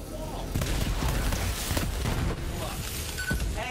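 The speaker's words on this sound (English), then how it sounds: "Fire out of the cannon. At the wall." A video-game cannon fires at a wall, giving a series of sharp blasts and booms over a noisy game soundscape, several hits spread across a few seconds.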